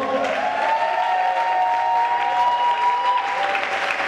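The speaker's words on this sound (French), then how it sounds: "Est-ce qu'on peut acclamer plus fort?" An audience at a church gathering applauds steadily and loudly, with dense sustained clapping and cheering voices throughout.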